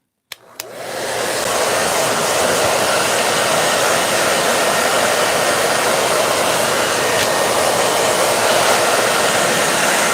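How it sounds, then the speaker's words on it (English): Heat tool switched on and blowing over Neocolor II wax pastel artwork, a loud steady whooshing hum that starts after a click and runs continuously, close up. "So I'm gonna apply the heat."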